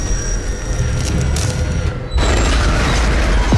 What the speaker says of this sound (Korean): 폭발해버리고 맙니다.